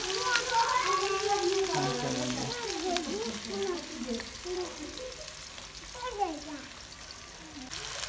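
Chopped onions sizzle and fry in a pan on a gas stove, a steady crackling hiss with stirring, heard up close under a voice talking.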